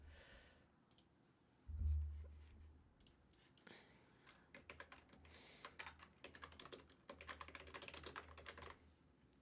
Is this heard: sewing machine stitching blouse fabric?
no